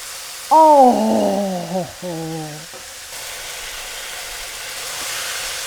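Chicken sears on high heat in a pan of coconut chicken curry, giving a soft, steady sizzle. A drawn-out vocal exclamation rises over it near the start, then the hiss carries on alone.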